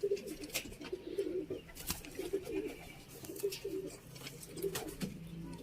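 Sialkoti pigeons coo repeatedly in soft, throaty bursts, several calls overlapping in a steady rhythm, with faint background noise around them.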